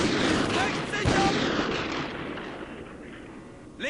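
Gunfire and explosive bursts from the Call of Duty: Ghosts video game, loud and continuous with booming impacts that fade toward the end, mixed with game voices.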